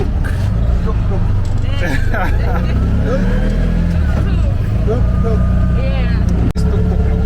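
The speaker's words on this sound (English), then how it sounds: "so we actually entered a tuk-tuk." A small tuk-tuk in Zanzibar, Tanzania, hums along with a steady engine drone under continuous conversation from passengers, with a brief thump near the end.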